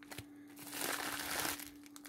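A plastic parcel of AliExpress goods is opened during unpacking, giving a soft rustling crinkle that swells for about a second and then fades, faint and close with no speech.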